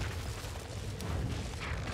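An explosion in the video game Monster Hunter G on a volcano stage, a heavy low rumbling boom that sustains with noisy crackle throughout the short moment.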